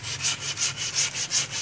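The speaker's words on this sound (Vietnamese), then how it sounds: "tiến hành cưa chỉnh sửa lại cho cây phát tài" A hand saw cuts through the trunk of a 20-year-old money tree (magnolia) in steady, even strokes, about four or five rasping pulls, close up with no voices.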